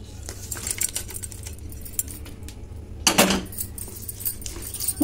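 A spoon stirs tempering into peanut chutney in a bowl, giving light scattered clinks and scrapes with one louder clatter partway through.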